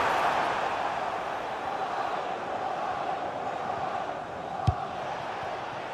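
Stadium crowd in an EA Sports FC 26 football match, a steady broad roar rising in anticipation around a corner, with one sharp thud near the end.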